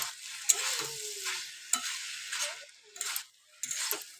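Banana flower being stir-fried with spice masala in a pan, with repeated scraping strokes of a spatula between quieter stretches of soft sizzle, close and fairly loud, no speech.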